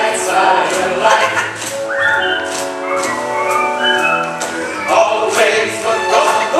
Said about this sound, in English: Just push your lips and whistle,